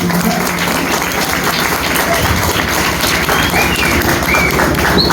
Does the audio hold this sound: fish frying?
no